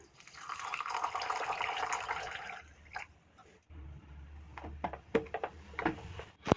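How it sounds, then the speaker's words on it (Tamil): Water is poured over raw rice in a vessel and swished, a sustained rushing wash followed by a pause, then scattered drips, splashes and small clinks as the grains are rinsed. "இந்த பச்சரிசியில் கொஞ்சமாக தண்ணி சேர்த்து இந்த அரிசியை நம்ம கழுவி எடுக்கலாம்."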